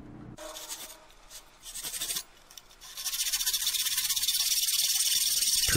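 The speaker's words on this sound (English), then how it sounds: "Trimming up the rough edges here, left from the table saw" Rough edges left on wood by a table saw are trimmed, producing a rasping, scraping hiss that shifts in texture and then settles into a steady, loud shaving sound up close.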